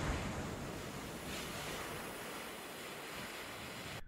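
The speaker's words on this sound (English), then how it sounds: "the soothing sounds of an ocean that is nowhere to be seen keeps you guessing" Ocean surf ambience in a video game: a steady, faint wash of waves with a windy hiss, continuous and distant, with no voices.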